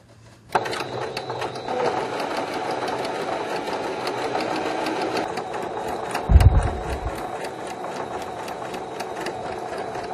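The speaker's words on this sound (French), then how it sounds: "On coud le biais comme précédemment." A sewing machine stitching bias binding onto a bib, starting with a clunk and then running as a fast, steady mechanical whir with rapid needle ticks, close and loud, with a brief louder thump partway through and no voices.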